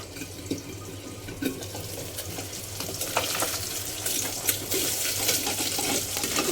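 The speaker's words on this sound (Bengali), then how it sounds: "মাছটা আমি ভালোভাবে ভেজে মাছটা ঢেকে দিছি" Pabda fish frying in oil under a lid, a steady crackling sizzle with sharp spattering pops that grows busier toward the end, heard alone without talk.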